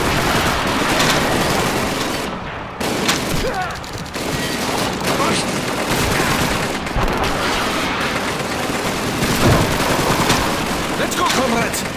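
Call of Duty 2 battlefield: dense, continuous machine gun fire and scattered shots rattle throughout, layered with explosions and chaotic combat noise, with voices briefly heard under the din.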